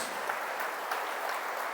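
A church congregation applauding during a Spanish-language sermon; a steady, even wash of clapping that stays fairly faint throughout the short stretch, with no voice over it.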